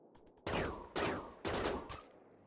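Gunfire in the video game RimWorld comes as three loud, heavy shots spaced about half a second apart, each with a booming body and a short decaying tail, preceded by a few faint quick clicks.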